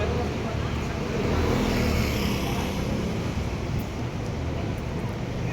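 A Yamaha Mio motor scooter rides along tree-shaded Esteban Street in Makati, its engine and the wind making a steady, loud roar with traffic around it, and a voice talks over it.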